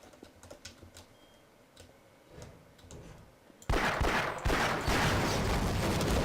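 Gunfire in the video game Half-Life: Source, a sudden loud dense burst of rapid shots arriving after quieter keyboard typing and clicks.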